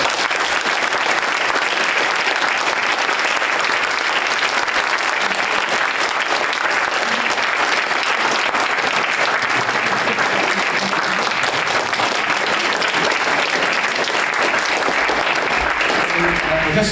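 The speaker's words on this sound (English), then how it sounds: "let's give a round of applause" Dense, sustained applause from a conference audience filling the whole stretch at an even, loud level, countless hands clapping together without a break.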